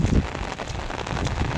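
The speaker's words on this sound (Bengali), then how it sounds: "তো অনেক বৃষ্টি আর বাতাস" Heavy rain lashes down with wind beside a riverbank during a rainy fishing outing, a dense, close, continuous patter and hiss with no speech.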